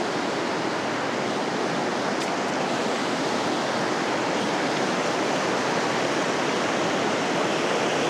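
River water rushing past the bank in mountainous Nuristan, Afghanistan, a dense, steady roar of flowing water that fills the scene continuously and loudly, with no voices over it.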